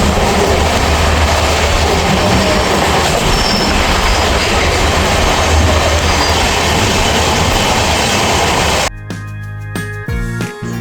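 Howrah to Bolpur express train running at speed on rails past Dankuni Junction, with a loud continuous rumble and rattle of wheels and wagons that suddenly drops to a quieter interior hum near the end.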